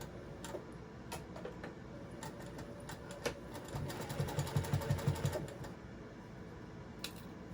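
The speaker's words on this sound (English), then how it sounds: "you're gonna sew a pocket" A sewing machine stitching a pocket onto a cross body bag, soft clicks and handling noise followed by a short fast run of rhythmic needle strokes, close and quiet, with no talk.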